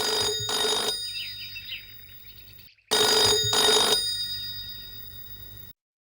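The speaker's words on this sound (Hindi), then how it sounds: "धर्मेश भाई, आपका फोन है।" A landline telephone rings in a household, two bursts of electronic double-trill ringing separated by a pause, clear and close with no voices.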